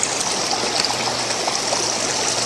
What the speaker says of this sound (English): Now he's rinsing off the classification plate, getting that gold that I showed you down inside.